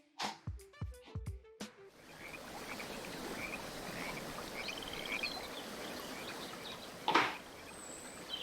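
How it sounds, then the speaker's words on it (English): Frogs croak in a rhythmic series, then a broad wash of flowing river water takes over, with scattered birdsong and chirps mixed in. "grab some birds, some river nearby. Yeah, some frogs, why not?"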